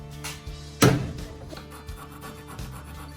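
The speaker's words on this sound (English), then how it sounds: "let this soak in, but don't let it dry so that you can scrape it off with a putty knife" A putty knife scrapes softened, gooey paint stripped with citrus stripper off old wooden furniture, giving short rasping strokes with one louder scrape near the start, close and moderately quiet.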